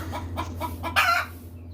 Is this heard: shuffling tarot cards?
no